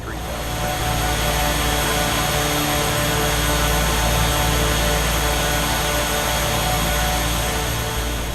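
Simulated RealAir Turbine Duke twin-turbine aircraft drones steadily in level flight, a loud continuous whine and roar filling the cockpit with no break.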